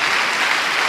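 Loud, dense clapping from a church congregation praising the Lord, a brief burst of steady applause with no voices.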